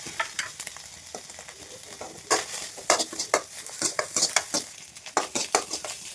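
Ginger garlic paste frying with chicken in a pan, sizzling steadily while a utensil stirs and scrapes in repeated close, loud strokes, busiest in the second half.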